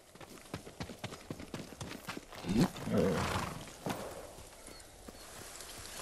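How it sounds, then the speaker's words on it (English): Horse hooves clip-clop in the Ghost of Tsushima video game, a steady patter of light hoofbeats under a roaring rumble and brief game speech, fairly near and moderately loud. "Let's get the horses."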